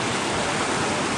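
Floodwater rushes steadily past in a flooded area of Dera Ghazi Khan, heard as a loud, continuous broadband roar with no talking.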